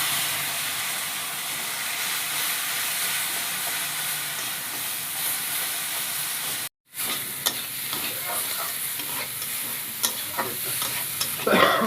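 A thin curry of native koi fish sizzles steadily in a pan as water and turmeric go in, giving a constant loud hiss that cuts out briefly before returning with scattered crackles and pops.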